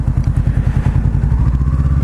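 Motorcycle engine idling steadily with a low, rhythmic pulsing thrum and some mechanical clatter, close and continuous for about two seconds; the bike is a Kawasaki Ninja 400 or Honda CBR500R parallel twin, no voices.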